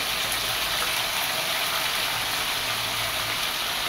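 Liver and beef hump meat boiling in a pan give a steady, dense hiss of bubbling water with no pauses, fairly loud and close, with no voices.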